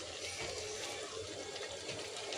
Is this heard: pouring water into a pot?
yes